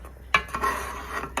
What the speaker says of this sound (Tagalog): I'm cooking. Carbonara sauce.